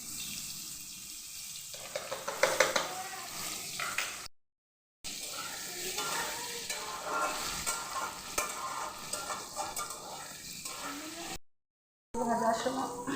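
Potatoes with turmeric powder fry in oil in a pan, giving a steady sizzle with stirring clatter for most of the clip, interrupted twice by brief silent gaps, moderately loud and close.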